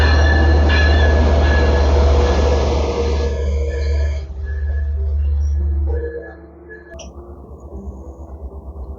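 A diesel double-decker Long Island commuter train rumbles past close by, loud and roaring, with squealing wheels, then fades away and leaves a quieter tail.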